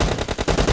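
Rapid bursts of automatic gunfire from a team-based video game shooter, a fast rattling rhythm of shots at close range with no talk over it.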